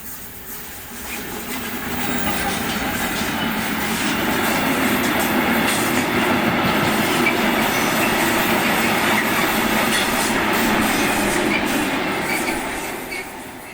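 A pair of Class 66 diesel locomotives, 66105 and 66009, haul loaded China clay wagons through Devonport, a loud close rumble with wheel squeal and clatter that builds, holds steady and then eases off.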